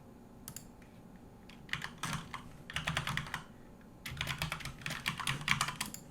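Computer keyboard typing in short bursts, quick clicky keystrokes coming in a few separate runs with pauses, close and fairly quiet, no talking.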